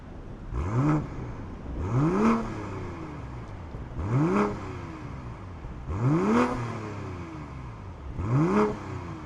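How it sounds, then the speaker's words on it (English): The exhaust of a 2025 BMW M440i xDrive coupe rises in five evenly spaced revs about two seconds apart, each swelling and falling back, with no talk over it. "2 exhausts, which do have some noise"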